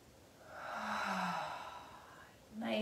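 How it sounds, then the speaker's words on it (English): Slow exhale out through the mouth during a gentle yoga breathing exercise, a soft, close breathy sigh that rises and fades over about two seconds, followed by the start of another breath. "Exhale, out the mouth, down the back."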